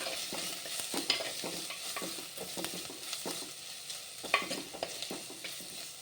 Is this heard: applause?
no